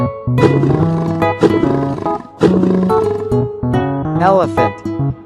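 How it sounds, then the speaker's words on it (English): A black panther roars and growls in several loud, close bursts with short gaps between them, with a tonal sweeping sound near the end that may be music or effects mixed in. "Black panther."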